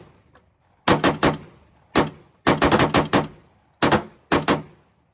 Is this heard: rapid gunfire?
yes